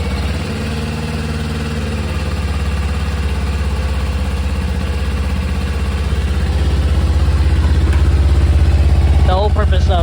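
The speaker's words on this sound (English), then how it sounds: "we're gonna run the bike for 5 minutes." A 2024 Kawasaki Ninja 500 motorcycle engine idles steadily close by, a loud, even low rumble that grows slightly stronger toward the end, with a brief chirp near the finish.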